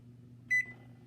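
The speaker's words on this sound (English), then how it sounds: "we are going to set a timer for 55 minutes" A single short electronic beep from an oven timer set while banana bread bakes, sharp and close against a quiet kitchen hum.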